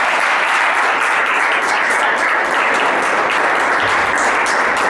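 Dense, steady applause from a church congregation during a worship service, many hands clapping loudly and evenly throughout without a break.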